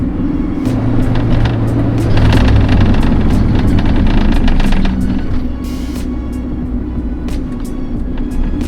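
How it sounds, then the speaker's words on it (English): A Honda EG hatchback with a swapped B20 engine drives steadily with a loud, close low engine drone, rising under acceleration and then easing as the car brakes, with road and cabin rumble throughout. "I'm gonna accelerate and I'm gonna hit the brakes"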